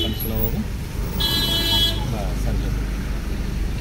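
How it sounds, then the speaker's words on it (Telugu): A car horn sounds in one clear sustained honk during a driving lesson on the road, heard over steady low engine and traffic rumble, with an instructor talking nearby. "హారన్ చేయండి."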